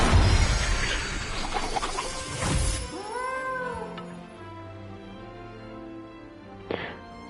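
A cat meows in the video game Hogwarts Legacy: a couple of clear, drawn-out meows rise out of a loud, busy burst of game noise, followed by a quieter stretch and a brief sharp sound near the end.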